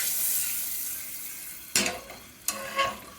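Garlic and spices frying in oil for a New York style pizza sauce, a soft hiss that fades, then two sharp bursts of sizzling as a spoon stirs and moves them around the pan.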